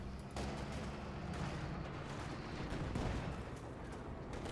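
An MG34 machine gun and other team weapons firing in a World War II strategy game battle with conscripts and a Panzer IV: a low, continuous crackle of distant gunfire with scattered heavier thumps, fairly faint throughout.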